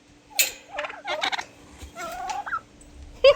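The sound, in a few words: wild turkey gobbling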